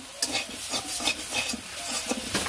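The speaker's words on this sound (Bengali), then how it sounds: "তো যে মাছটি ভেজে নিই" Fish fries in a pan while being stirred, with repeated scraping strokes of a utensil over a steady close sizzle.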